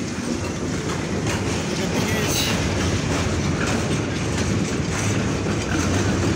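An express train rumbles past close by, with a steady roar and rhythmic clatter of wheels on rails throughout.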